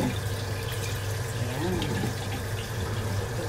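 Salted eggs being washed by hand under a running kitchen tap, with a steady, close rush of water splashing in a sink, continuous throughout.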